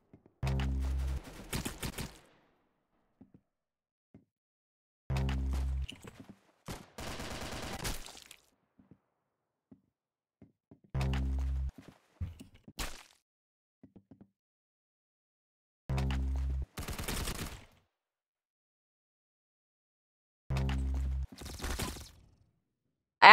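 Gunfire from the video game Arsenal comes in five separate short bursts spaced about five seconds apart, each a loud rapid crackle of shots followed by silence.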